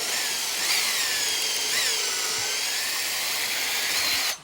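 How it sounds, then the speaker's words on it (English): A steady high-pitched whine of a power drill running continuously, boring into wood, close and loud before stopping abruptly at the end. "Now we got 2 holes drilled in there."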